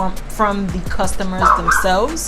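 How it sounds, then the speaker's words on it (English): A neighbor's dog barks and yips in short rowdy bursts close by, mixed in with someone talking over it. "That's my neighbor's dog and he's getting rowdy right now."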